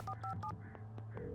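A desk phone in the video game Alan Wake, at the Bright Falls Sheriff Station, gives repeated short electronic ring bursts, three quick pulses up front then fainter tones, over a steady low hum.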